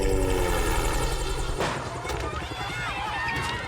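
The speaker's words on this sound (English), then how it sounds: "That's his helicopter landing." A helicopter lands on a film set, its rotor and engine making a steady loud thumping roar under voices talking and shouting nearby.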